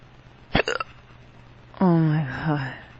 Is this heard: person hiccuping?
yes